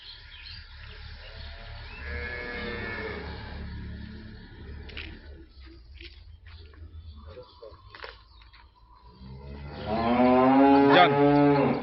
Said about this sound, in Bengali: এই গরুটা ষাঁড় গরু, ব্ল্যাক বি ফ্রিজিয়ান, এটা ষাঁড় গরু।